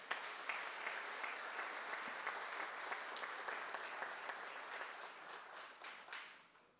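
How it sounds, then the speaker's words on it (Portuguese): Audience applause at a university opening ceremony in Brasília, dense and steady clapping filling the hall for about six seconds before tapering off near the end, with no talk over it. "Solicitamos uma salva de palmas a todos."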